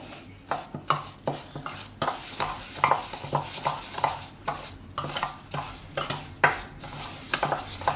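A spoon mixes Kashmiri chili powder into amla pickle, giving a run of close, rhythmic scraping and clinking strokes against the vessel, steady and fairly quiet with no voices.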